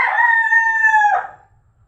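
A single fighting rooster crows loudly and close by, one long drawn-out call that rises and then trails off into near silence.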